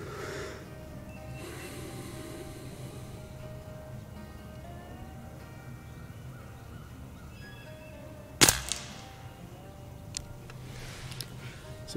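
A single sharp crack from a Beeman Underlever .177 PCP air rifle firing outdoors, loud and close against quiet background hiss, followed by faint soft noises.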